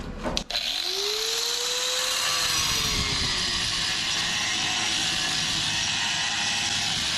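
A power tool cuts through Datsun car body metal, a loud, steady high whine and grinding hiss that ramps up quickly and holds continuously up close.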